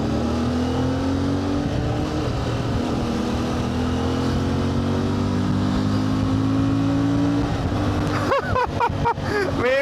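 A motorcycle engine hums steadily with a smooth, rising and falling drone while riding, wrapped in constant wind rush, with a rider's voice talking briefly near the end.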